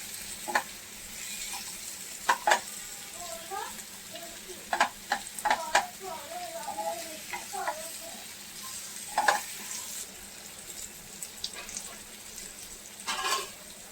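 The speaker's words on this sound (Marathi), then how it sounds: "छान आधी तेलावर फ्राय होऊ द्या मस्तपैकी तेल घाला चांगलं" Stuffed capsicum fry in oil in a pan, a soft steady sizzle with scattered utensil clinks and scrapes, plus brief faint voice-like sounds in the middle.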